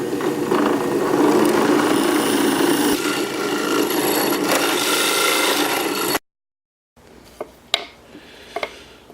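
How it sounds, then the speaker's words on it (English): Power drill boring through wood with a 3/4 inch spade bit, a steady loud grinding whir with rough cutting texture, then stopping into silence followed by a few faint knocks and handling sounds. "Here I'm just going to drill out the middle with a 3/4 inch spade bit."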